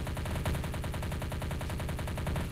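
Rapid, steady automatic gunfire in the Men of War: Red Rising war game, a dense rattling stream of shots continuing without pause.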